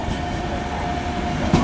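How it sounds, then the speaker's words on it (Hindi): Netravati Express train pulling into an Indian railway station, a steady rolling rumble of wheels and carriages with a faint sustained tone and a brief louder knock near the end, no talk. "चलो ये आ गई नेत्रावती एक्सप्रेस।"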